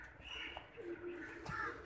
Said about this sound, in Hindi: अब ये कबूतर दिखा रहे हैं